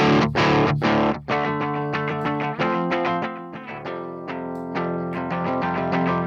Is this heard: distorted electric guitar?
yes